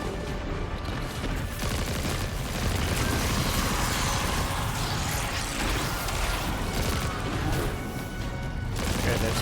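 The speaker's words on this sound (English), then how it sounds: "Got explosions." Explosions boom through a Destiny 2 The Edge of Fate firefight, loud and dense, blending with a steady barrage of gunfire and crashing impacts that fill the whole stretch without letup.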